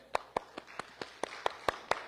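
Evenly spaced claps, about nine sharp hits in steady rhythm, come faint and thin from a church congregation during Sunday worship in Huntsville, sending off a departing elder returning to Korea.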